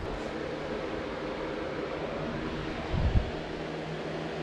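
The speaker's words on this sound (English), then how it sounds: "Sorry about the fan. It is really hot today" An electric fan runs steadily on a hot day, giving a constant broadband whoosh throughout, with a brief low thump near the end.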